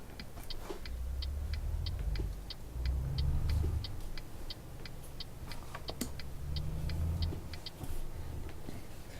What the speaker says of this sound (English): Oh, forgot to start the engine. There we go.